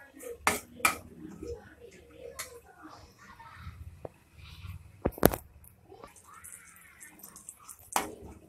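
Mustard and cumin seeds stirred in a pan while frying, heard as a few sharp metallic clinks of a utensil against the pan over a faint background crackle.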